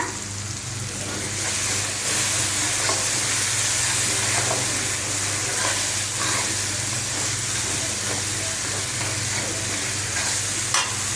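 Spice paste for chicken bhuna frying in a pan gives off a steady, close sizzling hiss, with occasional light stirring scrapes throughout and no talking.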